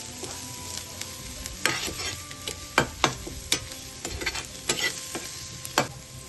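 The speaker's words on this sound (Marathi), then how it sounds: "मी हळदी पावडर टाकते, लाल मिरची पावडर, गरम मसाला, हे मिक्स करून घेऊया आपण" Clams fry in a pan as turmeric, red chili powder and garam masala are stirred in, with a steady sizzle under repeated scraping and clacking spoon strokes, close and fairly loud.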